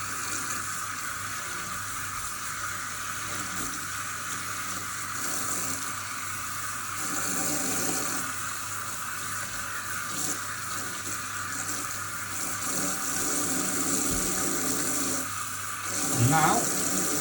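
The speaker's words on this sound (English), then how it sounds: "I'm just going to rinse it out again the same way through the lace" Running tap water rinses through the lace of a hair system, a continuous soft hiss and splash heard close, with small shifts in the flow and a brief louder gush near the end.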